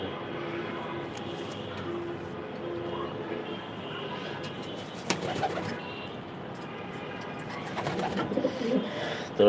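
Pigeons coo softly in a racing loft at night, low repeated calls over a steady background hum, with a few sharper knocks and rustles near the end.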